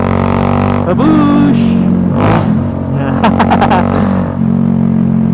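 A Bajaj Dominar motorcycle engine and exhaust idle loudly up close, with one quick rev that rises and then settles back to a throbbing idle, and a voice calls out briefly partway through.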